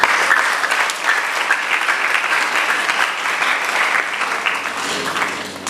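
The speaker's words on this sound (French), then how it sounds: "Nous pouvons d'abord applaudir pour ça." A congregation applauds during a diamond jubilee Mass at a minor seminary, a sustained, loud, dense roar of clapping from a large crowd that holds steady throughout.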